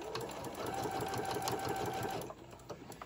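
A sewing machine runs steadily at close range with a rapid, even stitching rhythm for about two seconds, then stops, leaving faint handling noises.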